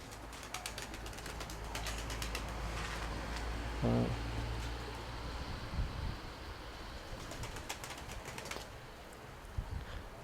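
Young pigeons coo softly and flap their wings in a loft while adults feed them, with a brief burst of wingbeats and scattered rustling and faint background noise throughout.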